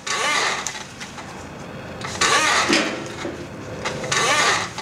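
A Triumph TR8 engine being stripped down is turned over repeatedly, with a rough churning and whirring that rises in bursts, producing an odd new mechanical noise, close up.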